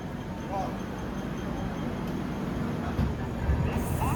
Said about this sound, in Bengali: ট্রেন 12 মিনিট লেট, এবং 2 মিনিটের হল দিয়ে ট্রেন ছাড়ছে